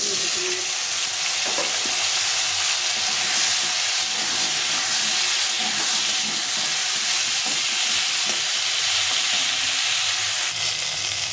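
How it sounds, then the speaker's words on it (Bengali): Eggplant pieces coated in salt and turmeric fry in oil, giving a steady, close sizzle and hiss that runs unbroken for the whole stretch, with no voices. "বেগুনটা এর লবণ হলুদে মেখে রেখেছি, একবারে ভেজে দিয়ে দেবো।"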